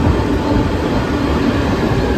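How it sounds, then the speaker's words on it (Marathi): A loud, steady rumble of a train rolling into a station, with a dense rattling roar and faint rail clatter, no talking. "आली ट्रेन आली"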